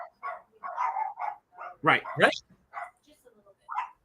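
Dogs bark in short, scattered bursts behind ongoing conversation, with a couple of louder, sharper barks near the middle and people talking throughout.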